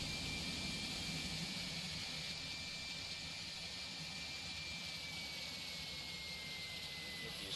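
An Airbus A300-600R airliner's jet engines in the X-Plane flight simulator spool down during shutdown, a steady, fairly faint whine and hiss over a low rumble.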